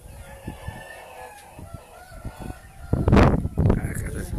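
A mother hen with her chicks clucks and calls nearby, with soft peeping and a louder burst of squawking near the end, while someone speaks over the birds.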